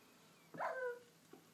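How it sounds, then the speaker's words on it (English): A Minecraft dog is struck and lets out one short, clear whimpering yelp against a quiet background, followed by a faint second whine. "hit the dog until it starts to die"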